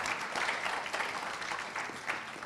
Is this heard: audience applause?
yes